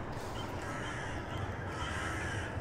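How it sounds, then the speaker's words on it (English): Toaster birds in the comedy video game Jazzpunk caw steadily, a dense, harsh crow-like chorus that runs continuously at moderate loudness with no speech over it. "Toaster birds."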